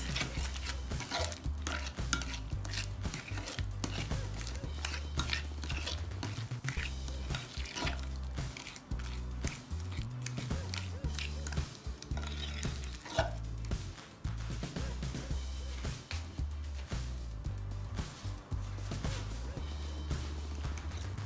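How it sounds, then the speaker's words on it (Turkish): A spoon stirring water into a dough mixture in a bowl, giving continuous close scraping and wet mixing sounds with small clinks, steady throughout under occasional talk. "Yani bununla da şöyle bir karıştırıyoruz."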